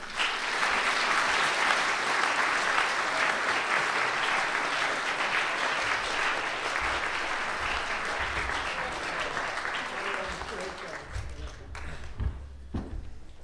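A conference audience at the 2012 Dartmouth Model United Nations applauds to welcome Ambassador Yelowitz, dense steady clapping from a large hall that slowly thins and tapers away near the end.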